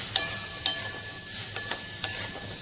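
Fresh green pigeon pea grains dry-roasting in a wok, with a steady soft sizzle and a few sharp scraping stirs of a spatula against the metal, close and alone.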